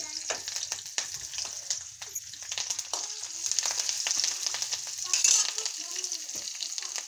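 Curry leaves and coriander frying in hot oil crackle and sizzle up close, with sharp pops and spatula stirring rising and falling throughout and no voices.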